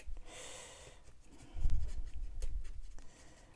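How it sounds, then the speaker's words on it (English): Marker coloring on black cardstock, a close, steady scratchy scribbling that swells into heavier back-and-forth strokes midway, with no voices. "So my solution is I'm just going to color it real quick rather than having to recut it in the basic black cardstock."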